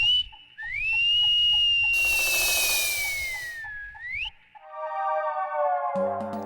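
A man blows a long, shrill whistle whose pitch slides and wavers before dropping away, loud and close, followed by rising tonal sounds and a low buzz at the end.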